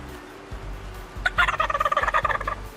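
A wild turkey gobbles in a rapid rattling burst after a few soft thumps, fairly close and clear against a quiet outdoor background during Ohio turkey season.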